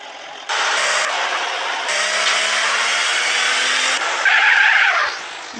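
A Lamborghini in GTA San Andreas revs and skids in a steady, loud tire screech with engine roar that runs almost the whole time, rising near the end, with no voices.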